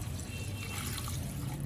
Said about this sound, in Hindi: ऐड करें 1 गिलास पानी